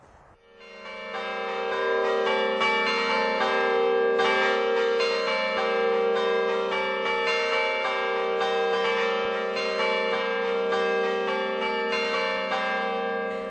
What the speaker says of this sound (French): ce sont les battants qui frappent la cloche, et la cloche immobile permet évidemment au carillonneur de tenir un rythme